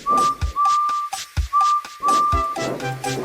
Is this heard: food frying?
no